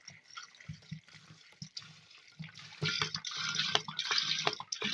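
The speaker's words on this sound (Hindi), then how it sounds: "अब इसको पानी डाल देंगे और इसको पूरा भर देंगे ऊपर तक" Water pours into a jar to fill it to the top for a homemade fermented drink, a steady splashing fill that starts in intermittent gushes and swells into a louder continuous stream in the second half, with no talking.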